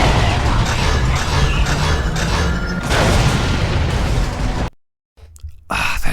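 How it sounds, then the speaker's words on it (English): Charged cannon blast from the PS2 game Transformers: Revenge of the Fallen, a loud, dense roaring boom sustained for several seconds, then cut off abruptly before a quieter rumble returns. "holding down L2 to unleash a charge shot from your cannon that can be charged up to 4 times"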